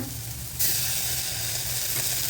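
Ginger garlic paste drops into a hot pan for masala idli and breaks into a sudden loud hissing sizzle that holds steady and close, following a quieter background.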